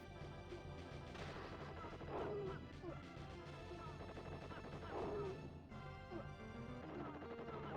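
Laser blasts and explosions from the SNES game Skyblazer, with bursts of crashing noise that swell twice over a busy, continuous game soundtrack.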